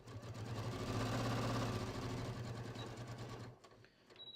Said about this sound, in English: The nice thing about a slash pocket is there's no tricky sewing, there's no curve, it's just a straight line,